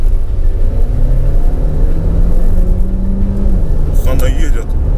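Skoda Superb with a 1.4 turbo engine pulls at full throttle, a steady rising engine drone heard inside the cabin, a voice speaking over it toward the end.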